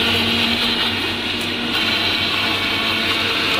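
An electric mixer grinder whirs steadily as it blends apple and banana juice with sugar, a loud continuous motor drone with no pauses.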